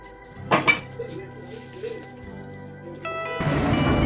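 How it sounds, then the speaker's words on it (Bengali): A kadai used for cooking soya biryani masala is lifted off the stove with a couple of sharp metal clanks and scrapes, then a soft rushing hiss rises at the end. "এখন আমি কড়াইটাকে নামিয়ে নিব"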